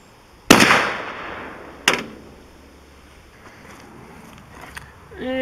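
A 7.62x39 steel-jacketed, steel-core rifle round is fired into cast aluminum near a bolt pad. One loud, sharp report is followed by a second, weaker crack, and a decaying tail trails into quiet outdoor background.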